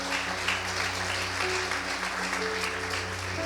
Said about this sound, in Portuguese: Vamos aplaudi-lo mais uma vez?